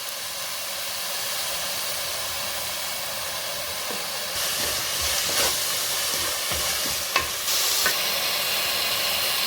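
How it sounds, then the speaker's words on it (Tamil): Ginger garlic paste sautéing in a pan for a country chicken curry, a steady broadband sizzle throughout with louder bursts of stirring and scraping in the second half. "இஞ்சி பூண்டு பேஸ்ட்டு பச்சை வாடை போகிற அளவு நல்லா வதக்கி விடணும்."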